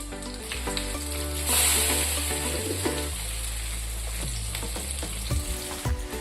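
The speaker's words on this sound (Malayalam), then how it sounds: "അങ്ങനെ നമുക്ക് എല്ലാ പീസസും ഓട്സ് മുക്കി ഫ്രൈ ചെയ്യാനായിട്ട് ഇടാം" Oat-coated chicken pieces deep frying in oil, a strong continuous bubbling sizzle with a louder surge early on and occasional pops and clinks, close, with a low steady hum underneath and no talking.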